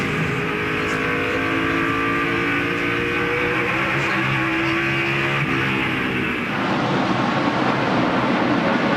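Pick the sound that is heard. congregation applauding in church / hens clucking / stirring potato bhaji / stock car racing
stock car racing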